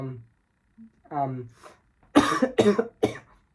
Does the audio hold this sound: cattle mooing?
no